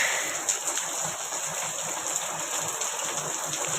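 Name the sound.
heavy rain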